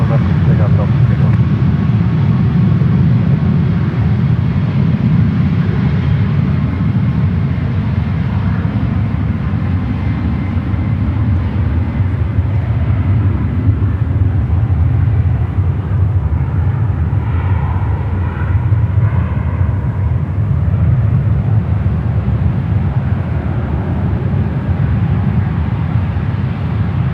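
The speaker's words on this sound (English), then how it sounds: "the United flight heading to Reagan National now, starting its roll down to 1 right" A United airliner begins its takeoff roll on runway 1 right at San Francisco airport with a loud, steady engine roar. The rumble swells and holds for the whole stretch while radio chatter and talk run over it.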